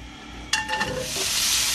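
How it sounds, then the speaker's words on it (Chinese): Pork belly with preserved mustard greens fries in a dry, oil-free wok, a steady close sizzle swelling after a brief stir clatter and holding on to the end. "慢慢煎翻佢先，差唔多煎咗5分钟啦，开始干身咗啲咯"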